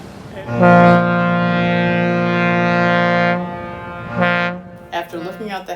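A passing ferry sounds its horn up close: one loud, long, deep blast held for about three seconds, then a shorter second blast, followed by faint voices.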